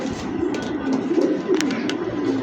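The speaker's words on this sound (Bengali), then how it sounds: "ফুল চকো রেসার একটা মাদি কবুতর" A female full-check racing pigeon, currently molting, giving low soft coos close up, a steady murmuring burble with a few sharper clicks and taps mixed in.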